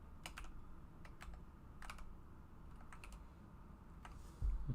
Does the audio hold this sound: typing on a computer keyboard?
yes